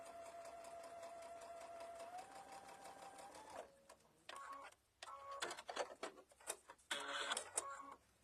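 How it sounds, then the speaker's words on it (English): A sewing machine runs steadily at first, stitching a quilted mug bag from edge to edge, then breaks into short stop-start bursts of stitching, fairly close and moderately loud. "So then you're just going to sew from edge to edge."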